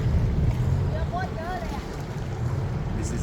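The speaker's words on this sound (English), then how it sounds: "This is another Hidden Bangkok Tours boat." A steady low rumble of a tour boat's engine cruising along a Bangkok canal, with wind and water noise throughout and faint voices mixed in.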